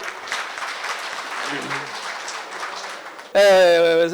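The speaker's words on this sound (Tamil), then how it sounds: "புரிஞ்சுக்க மட்டும் கைதட்டுங்க" An audience at a Tamil land brokers' association meeting gives steady, moderately loud applause for several seconds, then it cuts off and a loud voice takes over.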